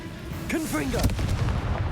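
A Confringo blasting spell detonates in Hogwarts Legacy, a heavy, low boom with a crackling rumble after it and brief vocal sounds near its start.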